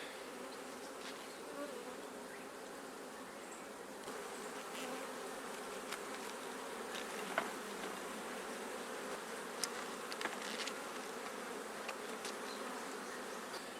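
Honeybees hum steadily around an open, honey-filled hive on abandoned land in Ōmishima, Japan, a dense continuous buzz with occasional closer bees passing near, no talking.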